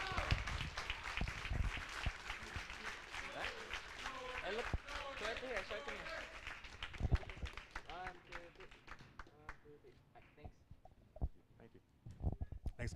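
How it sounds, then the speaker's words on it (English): A banquet crowd at a school sports event applauds athletes signing to play college sports, sustained clapping that thins out and fades toward the end, with voices talking over it. "One big last round of applause for Carliani and Jordan signing to play at the next level"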